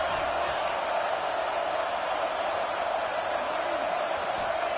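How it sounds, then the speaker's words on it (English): A stadium crowd in a football video game roars as it cheers on the defense, a dense, steady wash of noise that holds at an even level, with no clear voices standing out. "Listen to this crowd just shaking the girders of this place, trying to help their defense."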